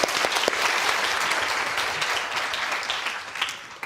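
An audience bursts into applause, a dense, loud wash of clapping that holds for a few seconds and then gently tapers off.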